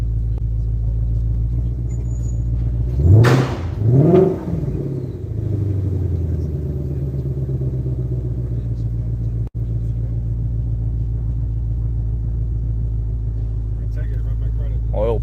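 A 2021 Shelby GT500 with its supercharged 5.2L 760 hp V8 idles in track exhaust mode with a deep, steady low rumble, broken by two quick throttle blips early on, while someone talks nearby.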